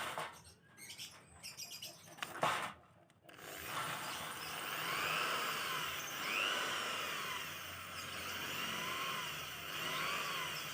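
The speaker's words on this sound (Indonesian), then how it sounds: "melakukan pengeboran di bagian yang sudah ditentukan tadi" A drill bit bores a hole into a PE28 motorcycle carburetor, giving a steady, close, grinding whir that runs unbroken for several seconds after a few brief handling clatters.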